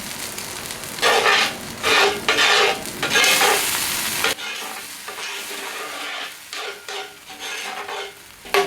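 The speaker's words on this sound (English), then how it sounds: "So we're going to add cream and then we're going to salt and pepper to taste" Cream added bit by bit to a Steak Diane pan sauce, stirred and sizzling hard in a hot pan; loud bursts of frying hiss and scraping strokes come in waves throughout, with no talking.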